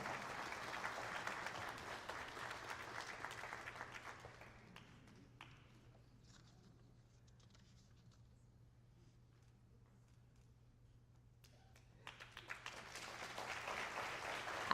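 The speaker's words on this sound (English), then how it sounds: "Let's give her another round of applause." Sustained audience applause at a South Carolina African American history calendar unveiling ceremony, dense clapping that fades to near quiet midway, then swells again toward the end.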